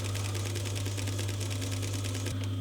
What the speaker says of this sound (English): So you can see why it's called a walking foot machine